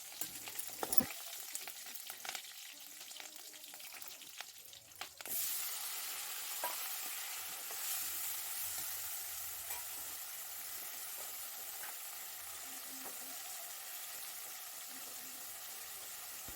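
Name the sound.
chopped green chillies frying in oil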